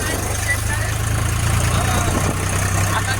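A tractor engine idles with a steady low chugging rumble, close and continuous, with faint voices underneath.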